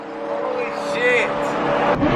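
A supercar revs at a car meet, its engine note rising and falling close by while people talk over it.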